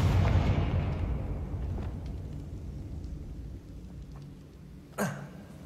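A Confringo explosive spell from Hogwarts Legacy erupts in a loud low blast that decays into a long rumbling tail, followed near the end by a sharp, brief crack.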